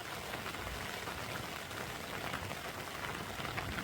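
Rain patters steadily onto a lake's surface in autumn, a constant even hiss of many drops, moderately loud with no talk.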